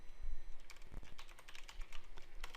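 Fast typing of code on a computer keyboard, a dense irregular patter of close key clicks with a few soft thumps, quiet and without speech.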